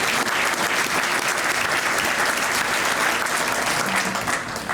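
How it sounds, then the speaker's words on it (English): Dense, steady applause from an audience at an awards ceremony fills the space, a continuous wash of many hands clapping with no voices over it. "let's give them a round of applause for surviving"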